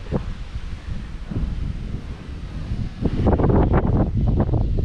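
Wind gusts sweep through a sunny park, rustling and buffeting the microphone, quieter at first and then swelling into a louder, steadier rush near the end; no one speaks.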